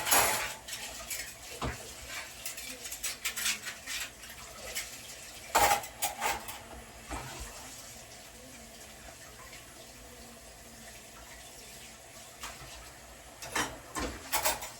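Dishes and cutlery clatter intermittently near a sink, with running water and scattered clinks and knocks throughout.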